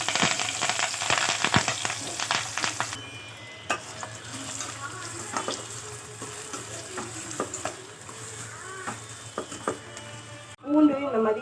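Onion and green chili frying in a pan with urad dal, cumin and curry leaves, a steady close sizzle broken by repeated scraping stirs of a spoon, with a brief louder burst near the end.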